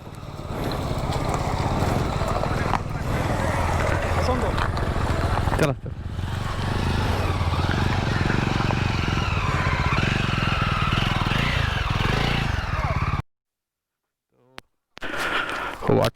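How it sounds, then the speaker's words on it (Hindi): Motorcycles ride off-road up a jungle mountain track toward a waterfall in Bargarh district, a loud, continuous close engine drone that revs and strains, cuts out briefly near the end, then returns, with a voice speaking over it. "हमारे बाइकर्स पहाड़ के ऊपर अपना बाइक लेके आते हुए"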